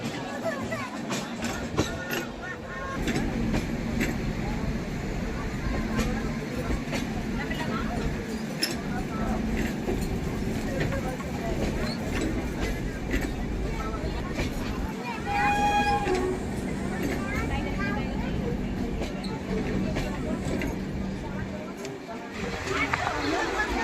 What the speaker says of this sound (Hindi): ट्रेनें आ रही हैं। सप्त क्रांति एक्सप्रेस।